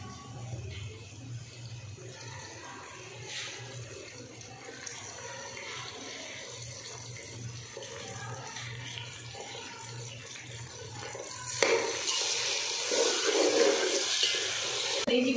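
Chicken liver and giblets go into a pan of frying garlic and ginger: a quiet background hiss gives way near the end to a sudden, louder, sustained sizzle.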